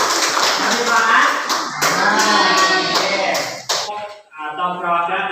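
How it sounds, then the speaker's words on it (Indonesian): Students in a classroom applaud, clapping hands loudly and densely for several seconds, mixed with voices talking over the clapping. "Tepuk tangan."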